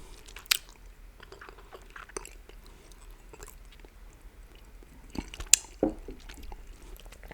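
Chewy chocolate caramel balls eaten up close, with soft, sticky chewing and occasional sharper bites and squishes scattered through a quiet background; no talking.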